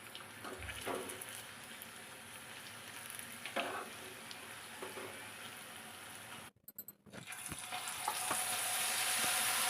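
Brinjal 65 pieces deep-frying in hot oil, a steady bubbling sizzle with occasional stirring scrapes, a brief cut to near silence, then a louder, brighter frying hiss.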